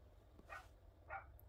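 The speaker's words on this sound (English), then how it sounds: "Apologies if you can hear that dog barking in the background." A dog barks faintly in the background, two short distant barks about half a second apart against a quiet room hum.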